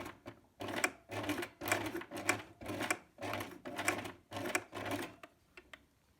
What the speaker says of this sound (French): Maintenant, vous allez coudre votre biais au plus près du bord.